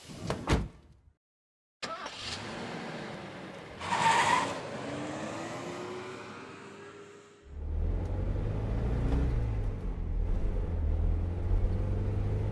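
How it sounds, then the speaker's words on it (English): In the video game Spirit Hunter: Death Mark, a car door thuds shut, then an engine starts and a low steady rumble of driving carries on, with a rising whine as it pulls out of a parking lot. "I pull out the deserted parking lot and drive back to the mansion."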